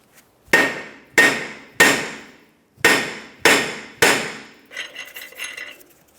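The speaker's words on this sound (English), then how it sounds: "After that, use a hammer." A hammer strikes the brake rotor of a 2011-2021 Jeep Grand Cherokee, six sharp metallic blows at a steady, deliberate pace, loud and close, followed by a few lighter rattling knocks.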